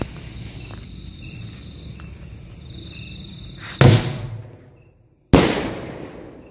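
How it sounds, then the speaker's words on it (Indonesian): Rawana firecracker at night during Ramadan: after a quiet stretch with insects chirping, two sharp loud bangs go off about a second and a half apart, each trailing off into a fading crackle. "lanjut ini kita nyalain mercon rawana"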